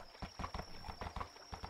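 Horse hooves clip-clop at a steady walking rhythm during a night ride, soft and fairly faint, with no talk over them.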